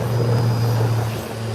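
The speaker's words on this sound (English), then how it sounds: "here comes the Beechcraft 1900 taking off" Beechcraft 1900 turboprop taking off at Howard Hamilton International Airport, a steady broad propeller-and-engine roar with a low droning hum, loud and sustained with no voices.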